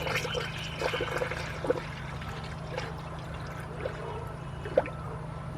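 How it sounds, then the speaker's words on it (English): Coolant bubbling and gurgling as a 2003 Nissan Maxima GLE 3.5 engine is refilled during a partial rebuild: faint, soft trickling with a few small pops, under a steady low hum. "me hearing bubbles right here coming up, that's a good sign"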